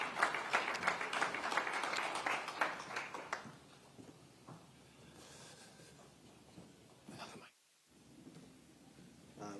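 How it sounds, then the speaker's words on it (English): A burst of clapping from a conference audience, dense at first and then thinning out and fading over several seconds. "Please, a big round of applause."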